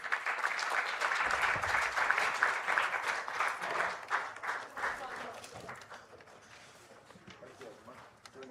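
A crowd claps in a sustained burst that gradually thins and fades toward the end, with some voices mixed in.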